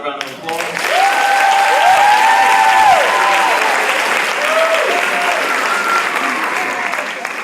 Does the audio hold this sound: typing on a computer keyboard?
no